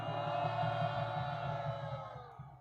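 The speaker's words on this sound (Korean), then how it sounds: "목사님들께 다시 한번 뜨거운 함성을 보내시기 바랍니다" A large crowd at an outdoor Children's Day worship rally roars in a loud, sustained cheer for the pastors, a broad wall of voices that swells and then slowly fades.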